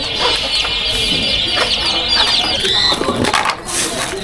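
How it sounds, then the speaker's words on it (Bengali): Several native desi chickens cluck and chatter close by, a continuous busy mix of clucks with a few sharper calls and some rustling. "আমার এই দেশি মুরগি বড় যে মুরগিগুলো আছে"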